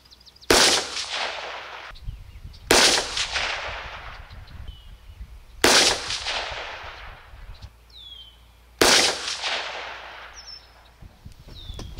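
Four loud rifle shots, each a sharp crack with a long echoing decay, spaced a few seconds apart outdoors while a scope is sighted in at 100 yards, with faint birdsong between shots.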